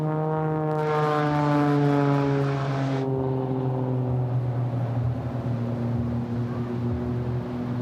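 Aircraft engine drone from an aerobatic display at the Pacific Airshow over Surfers Paradise, Gold Coast, loud and sustained with shifting pitch as the plane manoeuvres, a brief whooshing burst early on, no talk.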